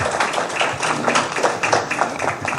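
An audience at a university talk on academic policy claps briefly for a speaker, a dense continuous patter of many hands at moderate loudness, with no voices over it.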